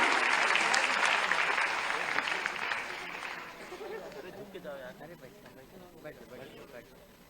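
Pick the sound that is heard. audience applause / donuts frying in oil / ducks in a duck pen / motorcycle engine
audience applause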